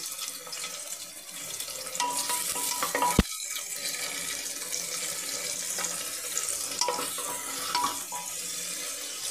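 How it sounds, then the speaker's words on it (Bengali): Chillies and onion crackle in hot oil in a cooker with a steady hiss and a sharp clank near the start, followed by continuous moderate frying with light stirring and no speech. "তেলটা আমার গরম হয়ে গিয়েছে। এর মধ্যে লঙ্কা আর পেঁয়াজটা দিয়ে দিলাম।"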